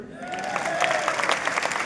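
An audience claps together in a brief, steady burst of applause mixed with some crowd noise and faint cheering, fairly loud and close throughout.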